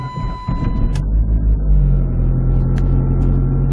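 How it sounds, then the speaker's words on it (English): A Chrysler PT Cruiser GT driving through downtown streets, its engine holding a loud, steady low rumble that swells slightly after a brief knock at the start. "So let's go cruise downtown in the PT-GT and see what happens."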